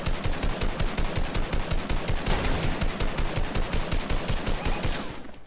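Sustained rapid gunfire in Fortnite, a loud, evenly pulsing stream of shots rattling without pause for several seconds before tapering off at the end, with no talking over it.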